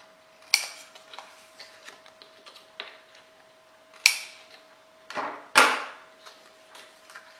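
Scissors snip the corners of paper album pockets in a few sharp, separate cuts, with quieter handling and paper rustle between them at close range.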